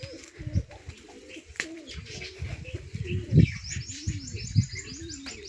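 Several pigeons coo softly in low, rolling bursts close by, with occasional chirps, a brief flutter of wings and faint higher calls behind them.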